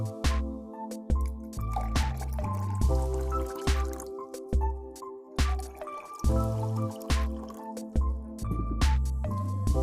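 Water poured into glasses for raw mango juice, a close, repeated liquid filling with rhythmic glugging and dripping, steady and moderately loud throughout, with no voices.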